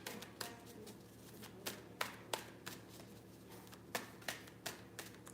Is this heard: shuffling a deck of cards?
yes